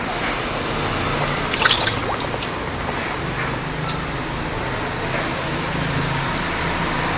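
Rice cake rinsed under clean running water in a rural kitchen, a steady close splashing and trickling flow throughout with a few faint clinks.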